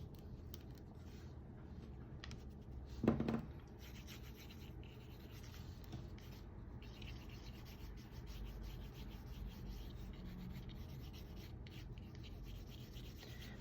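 An eraser rubs across a paper pencil drawing of a Naruto-style emoji, producing faint, soft scratchy rubbing strokes close by in a quiet room, with one slightly louder scuff partway through.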